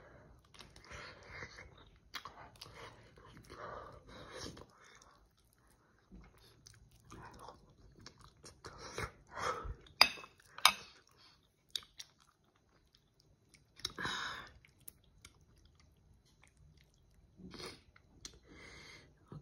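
Chewing and biting on corn mixed with bagoong, oyster sauce and soy sauce, a run of close, soft crunchy mouth sounds in uneven bursts with quiet gaps between.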